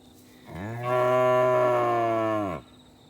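A single long, loud moo from a weaned calf held in a pen on a small acreage, close by, rising and holding for about two seconds before fading, with no talk.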